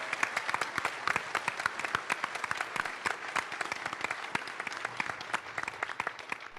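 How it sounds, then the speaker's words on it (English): A crowd at a surf film festival night in San Luis Obispo in 2016 applauds for Gary Linden, with individual claps standing out crisply in a sparse, uneven patter that carries on at moderate volume. "So I think just a really big round of applause for Gary Linden."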